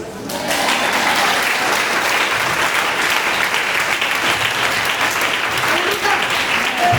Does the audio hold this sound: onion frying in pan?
no